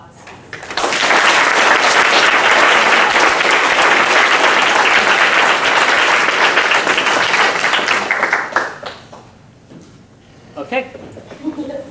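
A courtroom audience breaks into loud, sustained applause after a mock trial, clapping densely for about eight seconds before thinning into scattered claps, with voices beginning to talk as it dies down.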